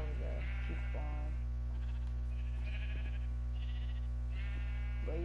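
Several sheep bleat in turn in the video game Pasture, wavering nasal cries over a constant low electronic hum, with brief gaps between calls.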